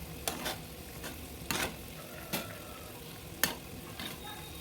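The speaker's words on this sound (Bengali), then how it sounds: "এক এক করে সমস্ত গোলাপ জামুন মিষ্টিগুলো দিয়ে দেওয়ার পর 2 থেকে 3 মিনিট মতো মিডিয়াম ফ্লেমে এটা ফুটিয়ে নিতে হবে" Gulab jamun sweets simmering in sugar syrup over a medium gas flame, with a steady bubbling hiss broken by several sharp scraping clinks of a utensil, close up.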